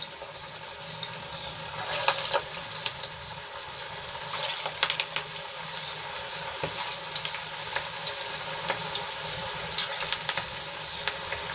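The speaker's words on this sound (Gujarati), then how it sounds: "હવે આપણું તેલ ગરમ થઈ ગયું છે તો એમાં આપણે કોફતાને તળી લઈશું" Kofta frying in hot oil in a kadai over low heat, a steady soft sizzle with intermittent crackling pops and bubbling, fairly quiet and unbroken.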